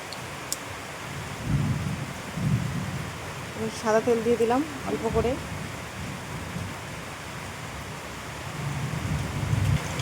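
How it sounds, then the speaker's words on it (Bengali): Low thunder rolls repeatedly under steady heavy rain, while someone speaks briefly over the storm noise. "মেঘ ডাকছে বাইরে প্রচুর মেঘ ডাকছে"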